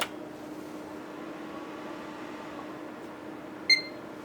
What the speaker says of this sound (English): Hey, beep.